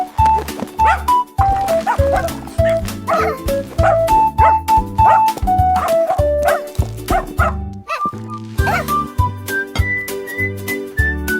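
A small dog yips and barks repeatedly in quick bursts over a tuneful melody, loud and close.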